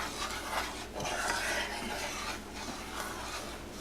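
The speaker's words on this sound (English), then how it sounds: "make sure you stir it up all good so that it's mixed in and stuff" Crème brûlée mixture being stirred in a pot over medium heat, a close, continuous scraping and rubbing of utensil against the pot in uneven strokes, with no talk.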